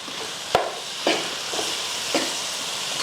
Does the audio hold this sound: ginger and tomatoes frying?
yes